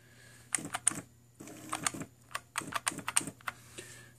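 Bursts of rapid key strikes from an IBM Wheelwriter 2 electronic typewriter, clattering in uneven runs with short pauses, close and fairly clear over a faint low hum.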